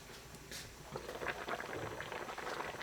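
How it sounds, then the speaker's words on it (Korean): Braised mackerel bubbles in a pot of seasoned broth at a fairly quiet, steady simmer, with soft irregular popping and gurgling throughout. "센 불로 끓여주세요. 보글보글 끓으면 중불로 낮춥니다."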